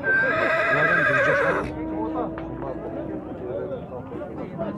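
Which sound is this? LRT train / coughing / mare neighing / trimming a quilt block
mare neighing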